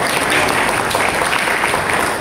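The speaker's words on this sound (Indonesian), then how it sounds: "Tepuk tangan bagi Tuhan." A church congregation applauding during an anniversary worship service, dense, steady clapping from a crowd throughout.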